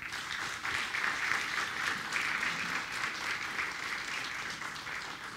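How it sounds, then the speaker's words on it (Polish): Sustained audience applause at a book award ceremony, steady and dense for the whole stretch, a hall full of clapping hands at moderate distance with no voices on top. "Wielkie brawa."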